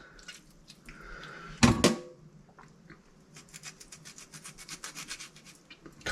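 Fresh abalone being scrubbed and its guts ripped off by hand during coastal foraging. A sharp, loud wet tear lands early, then a run of quick, rhythmic rasping scrub strokes fills the later part.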